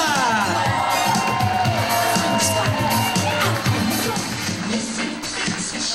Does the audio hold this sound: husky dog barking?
no